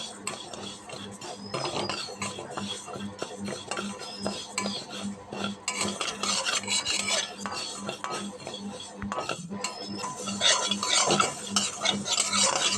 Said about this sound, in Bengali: মুগ ডালটা নাড়তে হবে